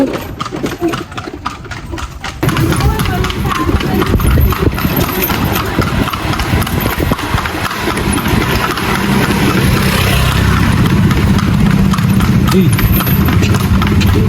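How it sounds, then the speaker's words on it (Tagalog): Steady clip-clop of a horse pulling a kalesa carriage on pavement with an engine idling nearby, continuous and loud, with voices occasionally in the background. "Parang makinig yung horse."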